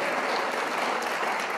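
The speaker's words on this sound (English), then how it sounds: "Give yourself a round of applause right now." An audience gives a short, dense burst of applause, steady clapping filling the room at moderate loudness with no voices over it.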